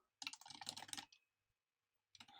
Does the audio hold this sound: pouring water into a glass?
no